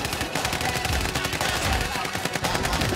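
Rapid gunfire in a Call of Duty Warzone match, dense bursts of automatic shots cracking continuously and loudly throughout, with no pause.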